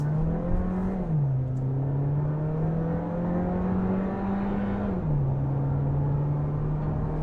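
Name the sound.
2022 Volkswagen Taos accelerating with dual clutch transmission shifting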